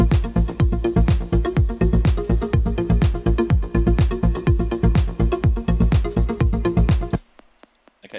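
A progressive house track plays its climax, with a pounding four-on-the-floor kick, a dense bass line and bright synth layers driving steadily for about seven seconds before cutting to near silence.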